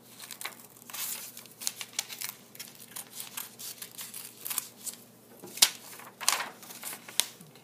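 Scissors cutting out a paper teddy bear template make a run of soft, close snips and crinkling paper rustles at an uneven, steady pace, with no talking.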